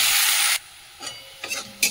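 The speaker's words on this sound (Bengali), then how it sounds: "পেঁয়াজটা একটু লাল করে ভেজে নিই" Chopped onions hit hot oil in a pan with a loud burst of sizzling, then drop to a quieter hiss broken by brief stirring scrapes and renewed spurts of frying, close up with no talking.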